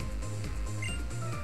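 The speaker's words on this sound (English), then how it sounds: "Please note the camera shutter sound will always be played for that fixed volume regardless of the camera volume setting." Camera shutter effect from the Pokémon Alpha Sapphire video game, a synthetic electronic click-and-whir repeated in a steady pulsing pattern over a constant game-music hum, with no talking.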